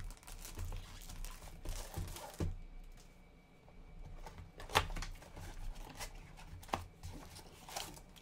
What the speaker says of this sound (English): Plastic coming off.